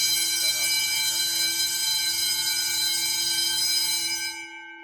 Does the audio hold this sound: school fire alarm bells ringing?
yes